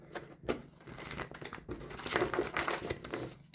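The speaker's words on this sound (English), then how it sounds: "I'm going to do a couple more shuffles." Tarot cards being shuffled by hand, giving quick papery riffles and crisp flicks in irregular bursts, close and fairly quiet.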